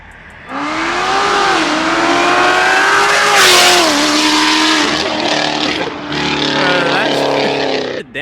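A Corvette C7 Z06 with about 900 lb-ft of torque launches hard, its engine roaring loud and close as the pitch climbs through the gears, briefly dipping at a shift before pulling again, heard from inside the car.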